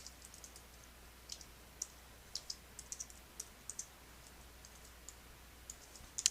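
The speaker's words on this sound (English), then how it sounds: "after I've typed this" Faint, scattered keystrokes on a computer keyboard while text is typed with a type tool, sparse irregular clicks spread over a quiet background hum with no talking.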